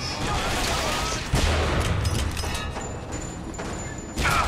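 Sniper rifle fire in the video game BioShock Infinite: a dense, noisy stretch of gunshots and combat with several sharp cracks, heard loud and close with no clear pauses.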